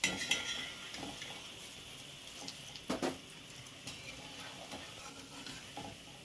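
Cabbage pakoras being turned over in hot oil give a faint, quiet sizzle, with a handful of light metallic taps and scrapes as a utensil flips them one by one.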